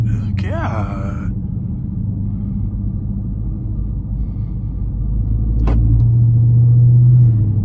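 Dodge Charger 392 Scat Pack V8 in a second-gear acceleration pull, a deep steady rumble from inside the car that swells louder toward the end, with a brief voice near the start.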